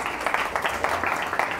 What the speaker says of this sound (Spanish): Un aplauso para Sam.